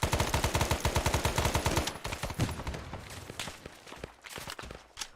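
Rapid automatic gunfire in Arma 3 with the S.O.G. Prairie Fire setting, a loud sustained burst for about two seconds followed by scattered shots and rattling echoes that gradually thin out.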